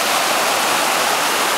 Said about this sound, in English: And there's the river over there.